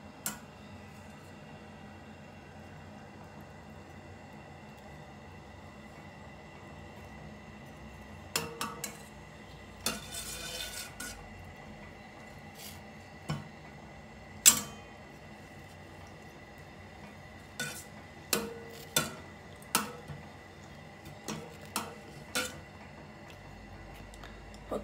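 Homemade potion being stirred in a container, with scattered sharp clinks and clatters like a utensil knocking the sides, sparse at first then more frequent, quiet between hits.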